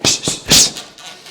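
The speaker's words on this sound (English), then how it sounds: "so I'm hitting the bag." A few quick, sharp punches land on a heavy bag in rapid succession, with short breathy exhales between them, close up.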